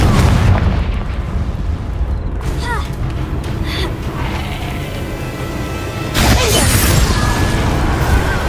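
The Confringo fire spell detonating in Hogwarts Legacy: loud, rumbling booms and crackling blasts layered over dense game noise and a voice, with a fresh surge of explosive roar near the end.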